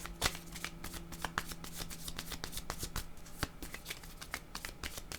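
Tarot cards are shuffled close up in a steady run of crisp riffling clicks and papery flutters that lasts the whole stretch, with no talking.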